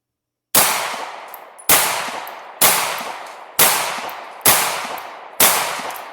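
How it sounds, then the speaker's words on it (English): Six sharp, loud pistol shots from an STI Staccato C at target practice, spaced about a second apart, each crack followed by a short decaying ring, with no talking. "I accidentally took an extra shot there, so I took 6 shots instead of 5."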